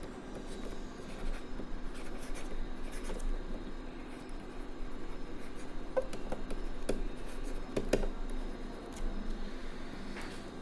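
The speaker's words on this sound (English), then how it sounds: "So here I am drawing a sphere" A sphere diagram being drawn by hand for a crystallography lesson on Ewald construction: a steady scratchy stroking of a pen or marker on a surface, with intermittent tapping clicks, close and continuous, with no voice.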